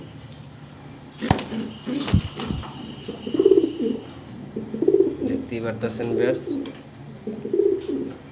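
Uncommon pigeons coo several times at close range, soft throaty calls with a burst of flapping wings early on, while someone talks over them.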